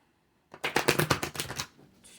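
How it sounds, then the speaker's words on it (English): A deck of cards is riffle-shuffled up close after half a second of silence. A quick burst of rapid, crisp fluttering snaps lasts about a second and then settles into a soft shuffle. "Every day I'm shuffling."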